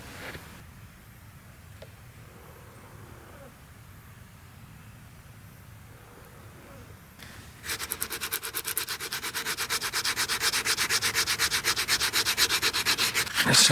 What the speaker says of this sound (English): I'll sand that transition right there